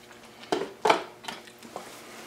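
A utensil scrapes and clinks against a pot of stewed chicken as a slurry is stirred in, a few distinct knocks followed by softer stirring.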